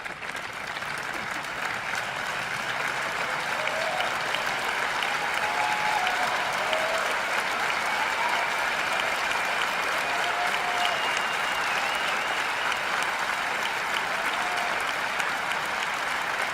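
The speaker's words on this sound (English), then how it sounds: "I am applauding you." Sustained applause from a large audience at Apple's September 2015 presentation, steady and dense clapping that fills the whole stretch without a break.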